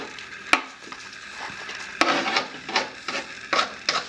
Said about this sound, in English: I'm going to use this half stick of butter as my base and throw in my ground beef and onions.